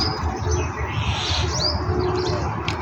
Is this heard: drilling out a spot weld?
no